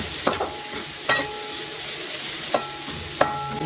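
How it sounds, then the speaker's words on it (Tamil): Chopped veliparuthi sautés in sesame oil, a continuous close sizzle broken by four sharp clacks of a utensil striking the pan as it is stirred. "நல்லெண்ணெய் விட்டுட்டு நம்ம வெட்டி வச்சுருக்கிற இந்த வெட்டி வச்சுருக்கிற காயை இதில் போட்டு வதக்கி எடுத்துக்கலாம்"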